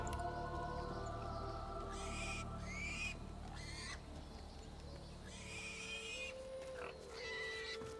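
A pig oinks and grunts in short bursts within a fantasy role-playing game, its squeals rising over a steady ambient music and sound bed, repeated several times at moderate volume.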